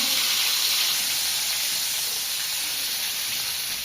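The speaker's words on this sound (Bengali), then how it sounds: "ট্যাংরা মাছ, বড় বড় ট্যাংরা ভাজি কি সুন্দর করে ভাজি নিই।" Tengra fish frying in hot oil give off a steady, loud hiss and sizzle that carries on unbroken, with no talk.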